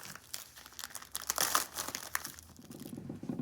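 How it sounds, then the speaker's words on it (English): Plastic bags on a handmade activity quilt being opened and handled, giving close crinkling and rustling in bursts with a louder crumple in the middle, no talking. "make sure that all of these bags can open"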